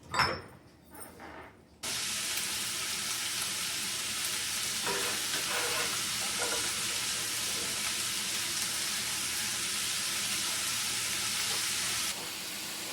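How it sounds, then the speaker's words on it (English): A steady, loud sizzle of potatoes and onions frying in a hot pan, starting abruptly and continuing evenly, with a few stirring scrapes. "we're going to start frying the potatoes and onions"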